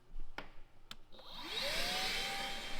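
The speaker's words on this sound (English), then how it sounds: "This vacuum cleaner will never be the same, Johnny." A vacuum cleaner switches on after a couple of knocks and ramps up to a steady whooshing whine as it sucks a mouse nest out of a dozer cab, fairly quiet and close.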